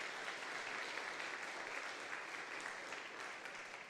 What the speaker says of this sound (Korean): 우리 다시 한번 박수로 우리 어린 아이들 격려해 줄까요?